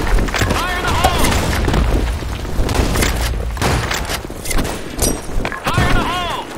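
A grenade blast in a shooter game booms loudly amid continuous battle noise and scattered gunfire, with voices shouting over the din.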